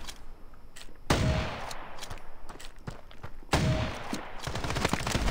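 Gunfire in the mobile shooter game Standoff 2 comes as two loud bursts of rapid shots with echoing tails, scattered single shots and clatter between them, and no speech.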